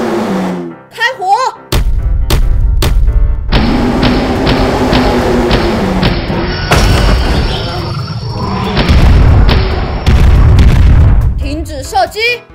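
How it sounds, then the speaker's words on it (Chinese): Cartoon gunfire and explosions from an animated construction-vehicle story with a forklift: loud repeated booms and sharp shots keep up a dense, sustained barrage for about ten seconds, with brief voices heard before and after. "开火！"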